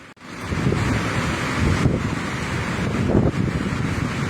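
Florida storm surge floodwaters roll and churn as strong wind buffets the microphone, giving a loud, steady roar of water and gusts throughout with no speech.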